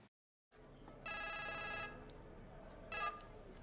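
A telephone rings in a hotel room in a scene from Casino Royale: a long electronic trill burst, then a shorter second burst after a pause, heard over a low room hum.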